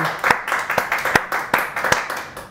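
Several people clap their hands in a steady, even rhythm, with about eight crisp claps spaced regularly over a couple of seconds, moderately loud and close, during a cooking show hosted with a guest.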